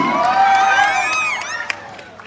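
A crowd at a fan meetup in Leicester, UK, bursts into a short round of shouting and cheering, with excited high voices layered close together and a few sharp claps as it fades.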